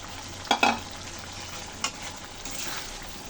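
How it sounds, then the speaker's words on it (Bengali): Fried potatoes are stirred into spiced masala that is frying in oil for an egg and potato curry, giving a few scraping clanks of the utensil against the pan over a soft, steady sizzle. "এখন আমি দিয়ে দেবো ভেজে রাখা আলুগুলো।"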